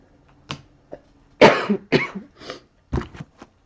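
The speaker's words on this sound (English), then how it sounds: "Coughing is into the elbow, guys." A series of sharp coughs, close and loud, some single and some in quick pairs, separated by short quiet gaps.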